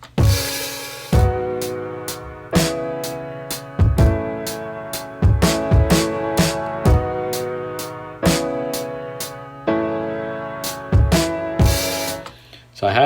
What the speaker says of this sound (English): Came up with a chord progression on keys as addictive keys, compressor and RC20 on both of these.